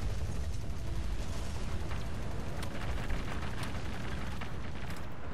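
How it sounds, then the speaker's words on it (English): Tank ammunition cooking off in War Thunder after a T-50 or T-28 hull is hit, a dense continuous roar of blasts and crackling booms that stays loud and steady throughout, with sharper bangs cutting through the rumble. "My ammunition exploded."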